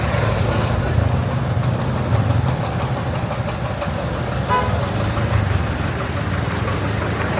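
Busy street traffic in Cagayan de Oro during a storm, with idling car engines rumbling steadily and short horn toots sounding over the din; voices talk nearby.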